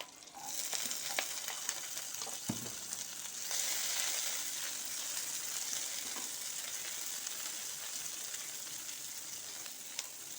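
Chopped onions fry in a little oil in a pan for a potato side dish, giving a steady close sizzle with scattered clicks, a brief clatter early on, and a slight rise in intensity partway through.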